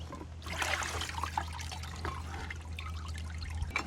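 Rusty parts are lifted out of a soaking bath, and liquid trickles and drips steadily off them close by under a low background hum.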